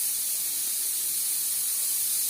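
A pressure cooker vents a steady, loud steam hiss while chicken ghugni cooks, with no talk over it.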